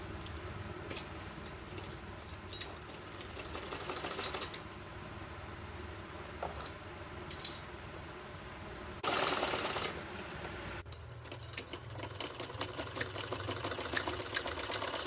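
A sewing machine stitches elastic onto fabric, its rapid mechanical rattle running in bursts with short pauses, close and moderately loud.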